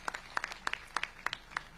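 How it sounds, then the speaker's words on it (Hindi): A few people clap at a slow, sparse rhythm, about a dozen distinct claps in under two seconds, fairly faint and with no talking. "बहुत जोरदार एक बार तालियों से स्वागत करिए कुशाल जी का।"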